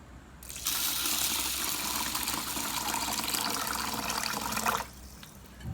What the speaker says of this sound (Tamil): இப்போ இதை வந்து தண்ணி சேர்க்க போகிறேன்